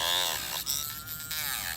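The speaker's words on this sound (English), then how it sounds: "This is just my battery powered Dremel, so it's not the best I got." A battery-powered Dremel rotary tool runs with a steady high-pitched whine that wavers slightly in pitch, close by and held for under two seconds.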